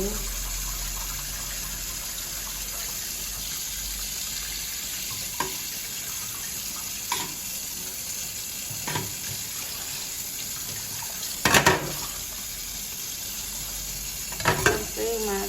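Running water pours steadily while pork intestines are washed, a constant hiss with occasional wet slaps and handling clatter, the louder bursts near the end, heard up close.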